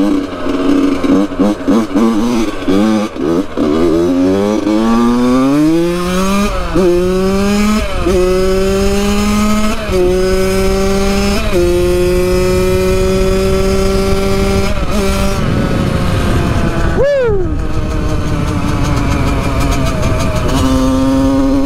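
A Yamaha YZ85 two-stroke dirt bike engine revs hard and loud up close, its pitch climbing in repeated surges as the throttle opens and drops back, with a sharp blip and fall near the end.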